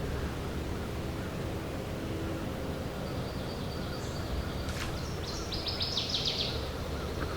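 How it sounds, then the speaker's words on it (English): A swamp sparrow sings in a flooded forest swamp, a faint distant trilled song rising above a steady hiss of insects and ambient noise, with a few brighter chirps near the end. "Just also heard a swamp sparrow too."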